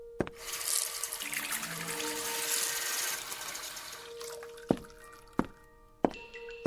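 Water from a tap or hose pours steadily onto wisteria plants in a radio drama, a continuous splashing rush at close range, followed by a few sharp drips and clinks as the flow stops.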